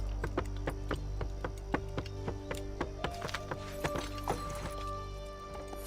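Steady, rhythmic clip-clop of a horse's hooves in Assassin's Creed III Remastered, a regular trot heard over a low ambient hum and soft game music.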